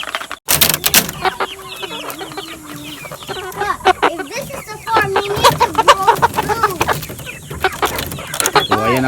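Rhode Island Red heritage chickens and chicks on a farm, steady clucking and peeping throughout with a few sharper calls, close and busy, people talking faintly now and then underneath.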